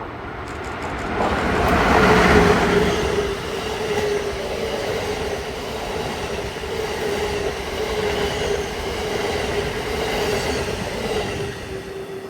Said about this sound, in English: Our first train through the depot is a westbound Northeast Regional with Acela 64, number 658.